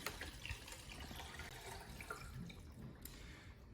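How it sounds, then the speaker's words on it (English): Liquid photographic fixer pours into a film developing tank during home darkroom processing, a steady trickling, splashing flow lasting a few seconds, fairly quiet and close. "Pour a fixer in."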